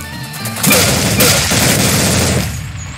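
Machine gun fire in the audio game Blood Shed, a loud dense rattle of rapid shots with booming bursts lasting a couple of seconds before tailing off.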